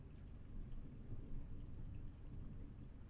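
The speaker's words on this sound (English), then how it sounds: "There's thunder. My power might go out again." A thunderstorm outside sends a faint, distant, continuous rumble of thunder mixed with steady rain, heard indoors with no talking.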